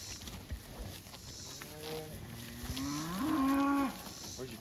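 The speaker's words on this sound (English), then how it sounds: "there's a calf right there" A calf moos in a pasture during drought-condition grazing, a single drawn-out, rising bellow building to a loud peak near the end, with buzzing insects and open-air background around it.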